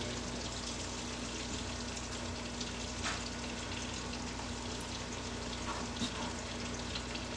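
Pieces of whitetail deer heart frying in a skillet, a steady close crackling sizzle with a faint background hum and a few louder pops, no talking.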